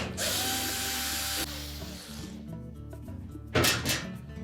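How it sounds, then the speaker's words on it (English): Hex head screws, typically 1/4-inch, are removed from the console of a GE washer with a power driver, which gives a steady whirring drive followed by a short, louder burst near the end, close up and without talking. "we're going to remove 3 screws that secure that console to the back panel"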